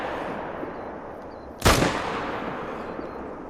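A single sharp rifle shot rings out in a hunting video game, a sudden loud crack just past the midpoint with a brief decaying tail over a steady low ambient hiss.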